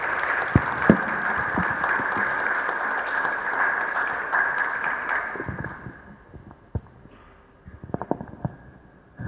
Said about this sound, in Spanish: Recibamos con un fuerte aplauso al doctor Eduardo Camacho Mercado.